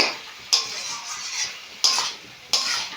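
Banana flower and potato stir-fried in a pan for a Bengali mocha chingri dish, with a steady bed of soft frying noise broken by three sharp spatula scrapes and clinks against the pan.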